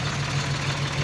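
A tractor hauling firewood toward a river idles with a low, steady engine drone, close and continuous for about a second.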